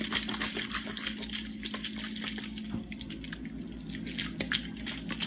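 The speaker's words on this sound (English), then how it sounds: "bottle of water sounds like when it has been sitting in the freezer for 7 hours" A plastic water bottle that sat in a freezer for seven hours gives soft squishy, crackling liquid sounds with small pattering ticks, steady and close, no talking.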